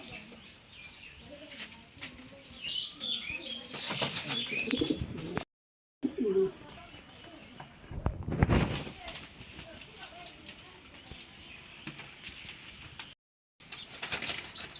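Racing pigeons coo softly in a close, enclosed loft, with occasional wing flutters and a voice talking intermittently over them.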